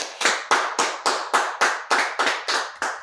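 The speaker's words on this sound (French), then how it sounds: "acclamez très fort pour Jésus" Church congregation clapping hard for Jesus, about ten sharp, evenly spaced claps at a steady rhythm, loud and close, with no cheering voices standing out.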